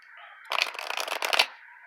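Tarot cards riffle and flick together in a close, crisp burst lasting about a second, with soft rustling of the deck before and after.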